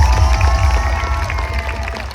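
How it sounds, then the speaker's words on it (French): A burst of audience clapping fills the space at an under-15 final in France, a crowd applauding steadily with some murmuring underneath. "J'aimerais qu'on les applaudisse bien fort et pour les remercier."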